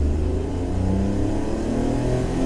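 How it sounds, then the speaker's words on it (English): A 1991 Honda Acty kei van's small engine pulls hard at full throttle in second gear, a steady droning rumble that climbs evenly and loudly without a break. "That's giving it all the throttle."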